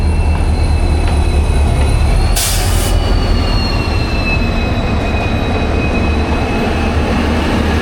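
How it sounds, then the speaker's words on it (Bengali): The Howrah Mithila Express runs loudly at close range, with a steady rumble of wheels on rails, a brief burst of hiss, and faint squealing tones drifting over the continuous roar. No one speaks. "তো এখন যাচ্ছে হাওড়া মিথিলা এক্সপ্রেস।"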